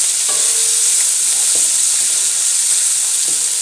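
Ginger garlic paste frying in a pan, an even, loud sizzle with light spoon scrapes and stirring clicks recurring every second or so.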